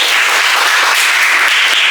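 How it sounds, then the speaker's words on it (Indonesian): A class of students gives a student a burst of dense, loud applause, many hands clapping together steadily and close by for the whole short stretch. "Oke, tepuk tangan untuk Mimi."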